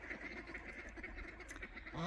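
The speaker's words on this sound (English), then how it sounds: "I don't know what the ducks are doing" Ducks quack in a short burst of repeated calls near a farmyard where roosters are kept, with a faint voice briefly audible over the quacking.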